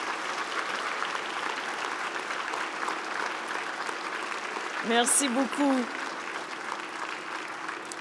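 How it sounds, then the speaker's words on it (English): Audience applause at a university fall convocation, a broad steady patter of clapping filling the hall, with a short spoken thanks breaking in over it near the end. "give a big round of applause to all of them"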